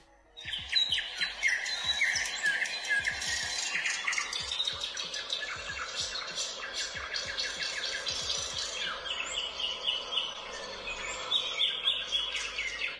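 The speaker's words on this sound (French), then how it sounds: "j'ai trouvé des chants d'oiseaux sur internet" Continuous recorded birdsong played from a phone, a dense mix of bright chirps and tweets with lower soft thumps underneath, steady and fairly close for the whole stretch.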